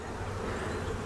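Honey bees buzz in a steady, dense drone at an open hive box on a homestead during an inspection, the hum close and constant throughout with no talking.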